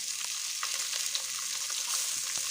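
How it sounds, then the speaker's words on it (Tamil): Two large onions, sliced lengthwise, sauté in a hot pan with a steady, even sizzle and faint stirring crackles throughout, with no voices. "அதையும் வதக்கிக்கோங்க."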